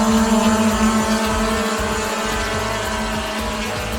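Steady droning engine and propeller whine of an H30 fixed-wing drone taking off, loud and close with a constant pitch held throughout, no voices.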